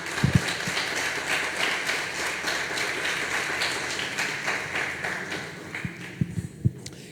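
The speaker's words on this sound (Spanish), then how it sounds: "Denles aplauso al Señor." A church congregation applauds for the Lord during a sermon, a dense sustained patter of many hands that fills the room for several seconds before thinning to a few scattered claps.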